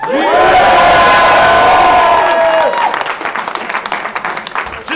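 A large crowd at a rap battle event in Calgary cheers, whistles and applauds loudly, the roar peaking then settling into steady clapping.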